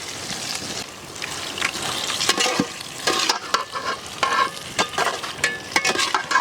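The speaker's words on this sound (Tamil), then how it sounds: "பாய் தம்பி தாளிச்சதை ஊற்றுங்க பாய்" Hot ghee tempering with dried red chillies poured into a coconut chicken gravy in an outdoor village kitchen, crackling and sizzling loudly with stirring and spattering bursts throughout, no talk.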